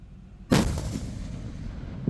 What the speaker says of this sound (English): We hope that the firing of the Leopard 2 SG did not shock you too much.